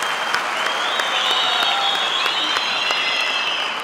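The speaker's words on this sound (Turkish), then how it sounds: "Kuvvetli bir alkış istiyorum yardımcılarıma." A studio audience on a Turkish talent show applauds the stage helpers, a steady, dense wash of clapping held at full strength throughout, with a faint tonal line from the hall running underneath.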